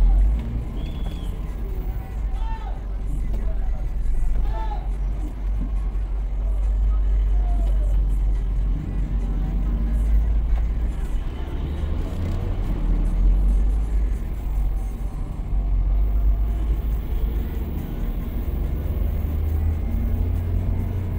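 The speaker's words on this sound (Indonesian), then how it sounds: "Inilah suasana kota Tebing Tinggi, Kabupaten Patlawang di malam hari" Night street ambience in Tebing Tinggi, with a steady low rumble of engines and cars passing nearby, continuous traffic hum throughout, and faint scattered sounds in the background.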